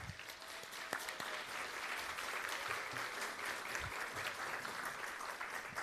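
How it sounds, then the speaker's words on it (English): Audience applause at a school district State of the District event, a full room clapping continuously at an even level for about six seconds, with no voices over it. "Please give Dr. Sanko and the equity team a round of applause for that as well."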